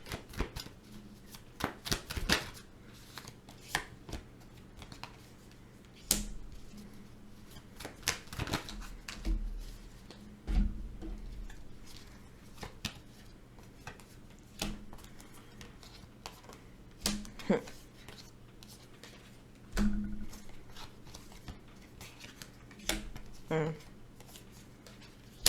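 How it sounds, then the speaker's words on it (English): Tarot cards being shuffled and drawn during a general reading, making crisp, irregular riffles, slaps and flicks close by, with short pauses between bursts of handling. "let me pull some clarifying cards here"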